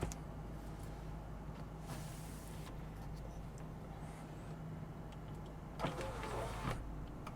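Sunroof motor of a 1999 Toyota Land Cruiser 100 Series tilting and sliding, a quiet electric whir running in separate bursts over a low steady cabin hum, with no talking.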